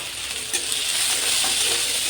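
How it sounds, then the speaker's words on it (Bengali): Tomatoes sautéing with boiled peas for ghugni in a hot pan, a steady close sizzle with a stirring scrape partway through, no voices. "টমেটোটা দিয়ে একটু কষে নেব।"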